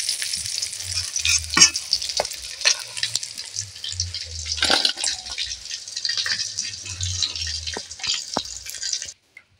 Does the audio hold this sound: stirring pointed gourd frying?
yes